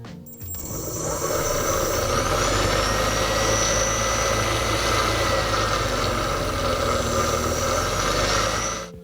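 Car alternator driven as a brushless motor, spinning with a steady, loud electric whine and hum that starts abruptly and holds at constant pitch for several seconds before cutting off.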